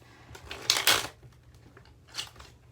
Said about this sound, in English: this giant deck that I'm going to attempt to shuffle